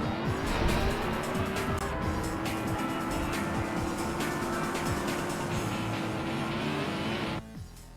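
Racing car engines from the PSP game Pocket Racers drone steadily with tire squeals and skids over a continuous soundtrack, loud and busy throughout before cutting out abruptly near the end.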